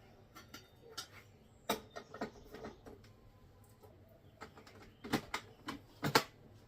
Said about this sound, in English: I'm just going to go ahead and grate it